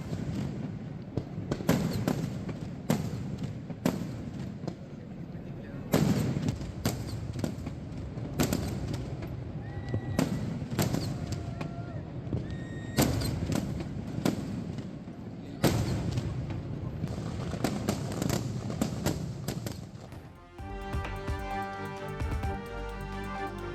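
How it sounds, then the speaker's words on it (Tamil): Fireworks at the Thrissur Pooram festival in Kerala, a rapid series of sharp bursts and booms echoing in the open night air, fairly distant, ending with a few seconds of music. "கேரள மாநிலம் திருசூரில் பூரம் விழாவையொட்டி வான வெடிகளை வெடித்து மக்கள் உற்சாகம்"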